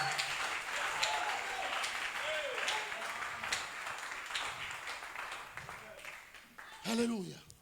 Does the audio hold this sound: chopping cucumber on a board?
no